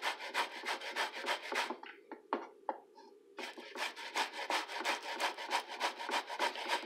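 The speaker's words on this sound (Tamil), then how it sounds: "இப்போ வர நம்ம கேரட்டு சீவரில் இப்படி சீவிடலாம்." Raw banana being peeled with a carrot peeler, rapid repeated scraping strokes, a pause with a few softer scrapes, then steady rhythmic scraping again, close up.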